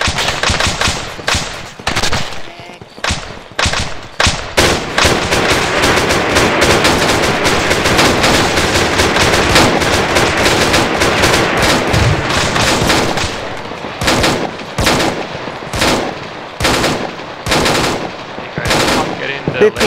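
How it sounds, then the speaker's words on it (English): Sustained machine gun fire in the military video game Arma, long continuous bursts engaging infantry, followed by shorter separate bursts toward the end, loud and close. "That's it, Tracer, on it, engage those units"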